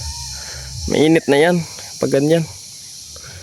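Insects chirring like crickets in hot weather outdoors during a spider hunt, a thin steady high-pitched drone running throughout, partly under a man's brief speech.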